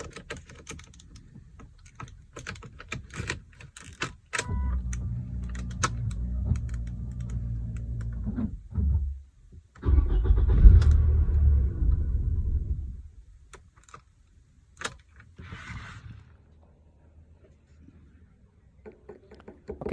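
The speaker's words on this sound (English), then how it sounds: "we need to start the engine, or rather crank the engine" The engine of a 2002-06 Toyota Camry is cranked with the fuel-pump wiring disconnected, so it never starts. There are two droning bursts of starter whirring, each lasting a few seconds, separated by a pause, with scattered clicks and ticks in the quieter stretches.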